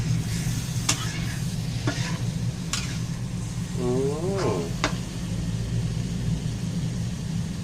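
Steady sizzling of egg being stir-fried with pumpkin in a pan, with occasional scraping clicks and a low engine-like drone underneath.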